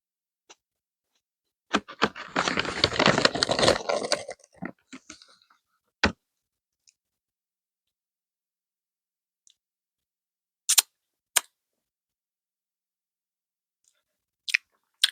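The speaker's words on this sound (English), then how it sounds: "It comes apart really easily, but it's so crunchy." Close, crisp crunching of seaweed chips in an ASMR setting: a dense burst of crackling bites for about two seconds, then a few sparse, sharp crackles and clicks separated by long quiet gaps.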